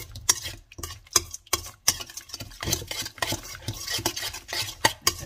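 Syrup and fish sauce stirred together in a bowl, a spoon clinking and scraping in a quick, steady rhythm of sharp taps, close and alone.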